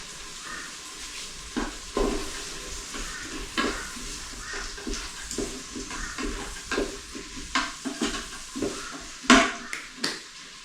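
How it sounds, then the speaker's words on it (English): Onions fry in a pan with steady sizzling, broken by repeated stirring scrapes and light clinks of a utensil against the pan. The sound stays close and moderately loud and runs on its own, with no talking. "we're just going to fry up these onions on their own for 3 or 4 minutes"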